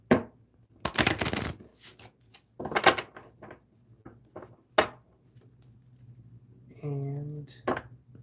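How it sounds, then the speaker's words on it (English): Tarot energy cards shuffled by hand in a few quick riffling bursts, close up, with pauses between and a voice speaking briefly near the end. "Let's do 2 more shuffles here for these energy cards."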